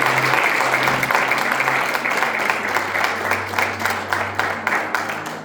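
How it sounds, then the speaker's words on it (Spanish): A church congregation applauds God during a sermon, a dense, steady wash of clapping lasting several seconds with a low hum underneath. "denle un aplauso a Dios, iglesia"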